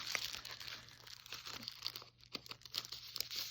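A Halloween sticker sheet is handled up close, producing quiet, rapid crinkling and crackling paper sounds in small irregular bursts for a few seconds, with no voices.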